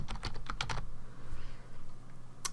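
Quick bursts of clicking keystrokes on a computer keyboard as a project title is typed, close and fairly quiet, followed by a pause and one final key press.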